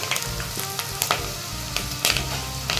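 Vadagam dropped into hot sesame oil for a fish kuzhambu, fizzing and crackling loudly up close, with sharp spits and bursts over a continuous sizzle.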